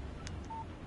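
A short electronic phone notification chimes in the Alan Wake video game, one faint bleep followed by a brief thin tone against a quiet background hum.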